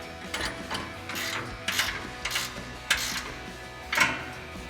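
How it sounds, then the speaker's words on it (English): An 18mm ratchet wrench clicks in quick repeated strokes while tightening bolts on a Toyota Tacoma front bumper, a close, fairly quiet mechanical ratcheting with short pauses between bursts. "now we're going to tighten down our bolts using our 18mm ratchet wrench and 18mm wrench"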